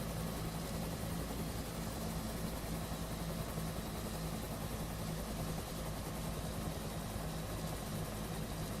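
A helicopter in a military flight game drones steadily with a low rotor and engine rumble, a constant dense noise that stays even throughout with no speech.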